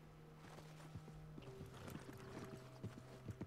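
Horse hooves clip-clop in the video game Red Dead Redemption 2, a faint irregular run of knocks over a low steady hum, with no talk.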